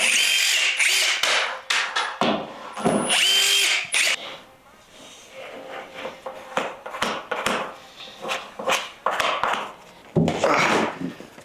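A power drill removes screws during carpentry prep, whirring in loud bursts that start and stop, with knocks and clatter of tools and wood handled between runs.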